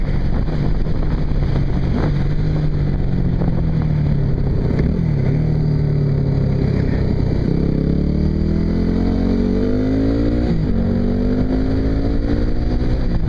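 A Yamaha WR250R dual-sport motorcycle pulls hard on a test ride, its engine note climbing smoothly in pitch through a long rising sweep, loud and close, over constant wind rush.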